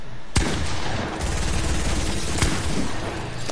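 Gunfire in a multiplayer video game: two loud, sharp shots about two seconds apart, cutting through a steady, dense rumble of background game noise, with no voices present.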